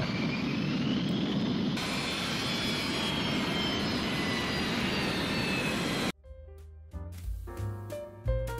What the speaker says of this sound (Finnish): Koskaan aiemmin ei Härmälän monttuun ole laskeutunut Caravelle koko luokan suikujettiä.